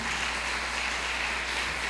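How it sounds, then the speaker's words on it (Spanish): Audience applause inside a church, a steady dense wash of clapping at moderate level that runs unbroken for the whole stretch, with no voices over it. "Vamos a darle un aplauso."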